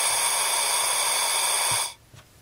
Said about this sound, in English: I've got my propane torch here now. So we can just put some propane to it like this.